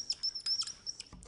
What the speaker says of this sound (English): Here's a bird, high in the sky,